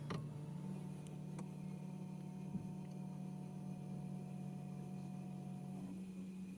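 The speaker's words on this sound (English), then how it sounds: "So you can hear that pump running outside." A newly fitted water pump runs in a BMW i3 electric car, heard from outside as a steady, even mid-pitched hum with faint ticks, continuing unchanged for several seconds before easing slightly near the end.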